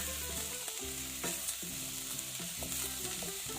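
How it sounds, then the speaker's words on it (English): Roasted peanuts being stirred into crispy frying garlic and onions, a soft steady sizzle with intermittent spoon scrapes, heard over a continuous low tonal background. "And garlic is done, I'm adding in 1 whole cup of our peanuts."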